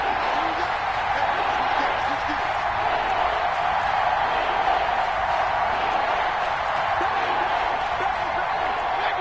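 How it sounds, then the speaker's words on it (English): A football stadium crowd at Falcons vs Chiefs before a big third down keeps up a dense, steady roar that stays loud and even throughout. "the crowd getting into it as we come up on a big 3rd down"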